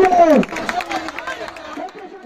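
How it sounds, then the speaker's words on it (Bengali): Protesting students at a street blockade in Dhaka's Natun Bazar area during the quota reform shutdown raise a loud shouted chant at the start, then a bustling crowd murmur with scattered voices carries on at a steady level. "আন্দোলন থেকে শিক্ষার্থীরা নানা স্লোগান দিয়ে যাচ্ছেন।"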